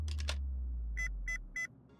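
Sharp electronic beeps sound in a hair salon: a quick cluster of three chirps, then three evenly spaced tones after a pause, over a low steady hum.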